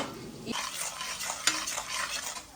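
Cashews and almonds roast in a pan for date balls, with a soft hiss and quick scraping stirs that turn louder after a quiet opening, including one sharp clink of metal on the pan.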